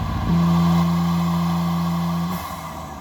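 A BMW G87 M2 fitted with aftermarket intakes holds a loud, steady engine drone for about two seconds, as with launch control, then drops off abruptly.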